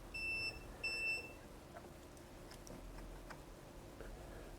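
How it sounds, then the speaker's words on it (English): Two sharp electronic beeps sound from a 12 V DC device in an astronomy setup, its alarm triggered after the unit times out, each beep clear and close, followed by quiet hiss with faint ticks. "This thing times out every so often and starts to give an alarm."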